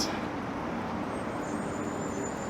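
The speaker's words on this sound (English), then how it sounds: "As a car just turned on to Queen." A car turns onto Queen Street amid steady Toronto street traffic on a hot October day, a continuous broadband roadway rumble heard fairly close with no clear break, with faint high tonal whines above it.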